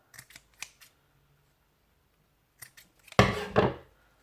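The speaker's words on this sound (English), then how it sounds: "I'm just going to cut at an angle." Several quick scissor snips cutting sinamay fabric at an angle in short bursts, a pause, then a few more snips ending in a louder, longer cut; close and clear with no talking.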